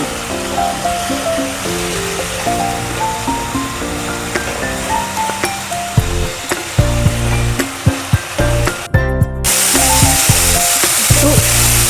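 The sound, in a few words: onion, ginger-garlic paste and chicken masala frying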